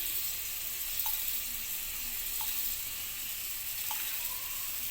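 Ghee or butter sizzles in a large pan, a steady, even hiss of hot fat with a few faint clicks and no voices.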